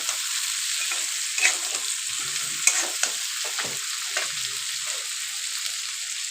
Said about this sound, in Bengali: মাছের তেলটা দিয়ে হালকা নেড়ে চেড়ে